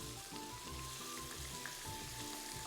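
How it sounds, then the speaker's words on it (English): Large pieces of beef fry in a pan for a spicy beef bowl, giving a loud, continuous sizzle with a crackling hiss and a steady faint whine behind it. "I hope my microphone will pick up over this sizzling."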